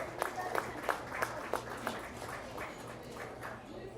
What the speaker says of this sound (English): let's give all of these Guernsey exhibitors a really nice round of applause